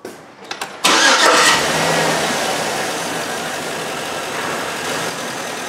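A Chevy truck engine with a misfire cranks briefly, catches with a loud burst, then settles into a rough, steady idle that sounds close and fills the space.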